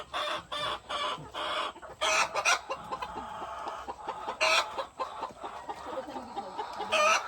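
A hen clucks loudly and repeatedly after laying an egg, a rapid series of squawking bursts close by, with other chicken sounds around it.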